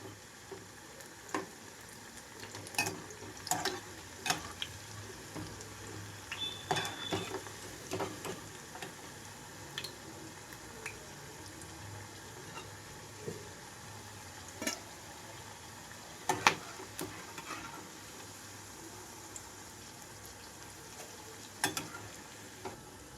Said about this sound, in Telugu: మీడియం ఫ్లేమ్లో అయితే మూడు నుంచి ఐదు నిమిషాల పాటు అయితే వేయించుకోవడానికి సరిపోతుంది